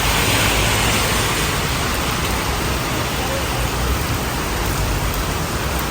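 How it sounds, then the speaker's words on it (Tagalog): Heavy rain pounding a car while driving on a slippery road, a dense, steady, loud wash of noise that stays constant throughout with no gaps. "I wouldn't wanna drive in this rain"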